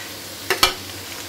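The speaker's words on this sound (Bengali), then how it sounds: "এবার আমরা চিংড়ি মাছ দেওয়ার চেষ্টা করছি" Shrimp fry in a pan for home-cooked khichuri over a low, steady sizzle, broken by two sharp, close clatters from stirring.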